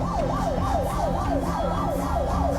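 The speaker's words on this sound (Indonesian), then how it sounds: "Jadi dengan mudah ambulans boleh jalan" An ambulance siren wails in traffic in Myanmar, a loud, steady rising-and-falling yelp repeating about every half second, with road traffic rumbling underneath.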